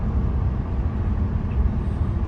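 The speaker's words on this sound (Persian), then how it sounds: "موقعی که داره دنده رو عوض میکنه چه صدای قشنگی داشت." A BMW 630i coupe's engine rumbles low and steady as it changes gear on the move. The drone is fairly loud and continuous, with road noise beneath it and no speech.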